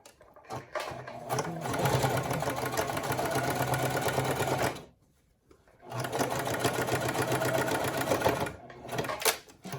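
A Singer Classic sewing machine runs steadily as it stitches a pant hem, a close, continuous whir in two long bursts separated by a brief pause.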